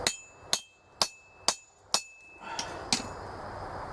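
A hammer strikes a hot-metal cut on a forged candlestick with five evenly spaced, sharp ringing blows up close, then softer, more muffled taps follow.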